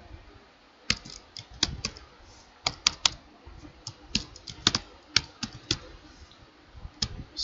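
Rapid keystrokes on a computer keyboard while filling in company details into finance software, sharp close clicks in irregular bursts and short pauses, with no talking.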